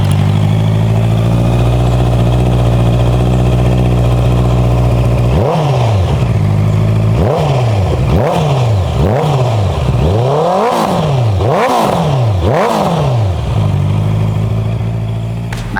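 A 2019 Honda CB650R with a 649 cc inline-four DOHC engine and Akrapovic exhaust idles loudly up close, then gives a string of about eight sharp throttle blips, each rev rising and dropping quickly before settling back to idle.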